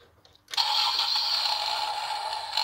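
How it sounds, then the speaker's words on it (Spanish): A small internal combustion engine in a model car starts abruptly after a brief quiet moment, then runs as a loud, steady, high-pitched buzzing whine close by until the end. "el sistema para que funcionen los motores, como este que tienes aquí, Miguel, arráncalo."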